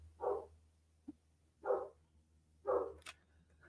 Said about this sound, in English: Oh, I gotta go see what he's barking at.